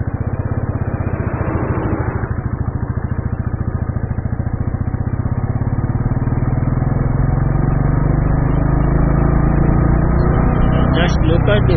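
A Royal Enfield Classic 350 single-cylinder motorcycle pulls hard in third gear, its loud, steady thumping engine note rising smoothly over about twelve seconds with close, continuous exhaust rumble.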